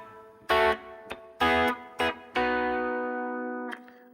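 Distorted electric guitar plays the opening phrase of a song's breakdown: a few sharp chord stabs and short hits, then a long sustained chord ringing out for over a second, played alone.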